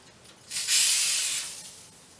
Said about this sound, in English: I'm just going to spray it down my sleeve.